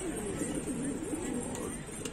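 Pigeons cooing softly and continuously in a loft kept by a pigeon keeper, a low steady murmur of coos close by, alone.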